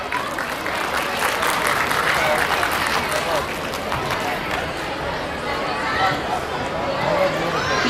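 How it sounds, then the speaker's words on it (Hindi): Audience applause at a school annual function for grade 4 students, a steady dense wash of clapping mixed with crowd hubbub and chatter, continuing throughout at fairly even loudness. "So let's give a big round of applause for our students from grade 4."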